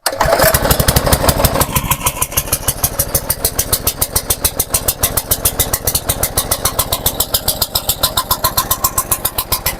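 Petrol motor water pump engine starting, then running at a steady rapid chugging idle close by, its loud pulsing exhaust continuing throughout with slight rises as the throttle is opened.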